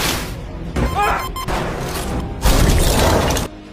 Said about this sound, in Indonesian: Menyebabkan tangki oksigen meledak.